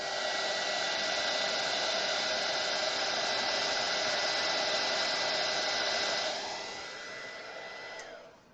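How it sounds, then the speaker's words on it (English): A handheld heat embossing tool blows over a single layer of UV resin in a wire jewelry piece, giving a steady, close, airy whoosh that holds evenly for about six seconds, then drops in level and fades out. "this I can go ahead and use my heat embossing tool because it's just one layer"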